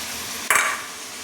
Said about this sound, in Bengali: এই যে এখন লাউটা আর আলুটা দিয়ে একসঙ্গে নেড়ে নিচ্ছি